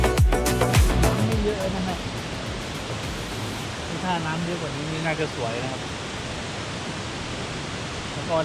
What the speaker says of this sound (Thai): น้ำตกนะฮะที่อูไหล